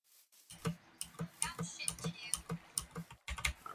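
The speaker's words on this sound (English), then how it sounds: "Sorry if that clicking is a little annoying. I've got a nice mechanical keyboard that very responsive, but isn't very forgiving when recording." A mechanical keyboard clicks in quick, uneven bursts of close, crisp keystrokes during a Minecraft play session, with no one talking.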